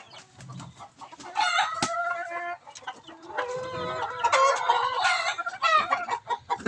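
Laying hens cluck and cackle nearby in repeated, rising bursts, loud and close, with other chicken calls mixed in and no talking.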